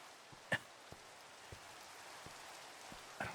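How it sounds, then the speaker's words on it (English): Steady rain falls in the Minecraft video game, a soft continuous hiss of raindrops with a few louder drips and taps scattered through it, heard alone without speech. "I don't know if you can even hear me over the rain."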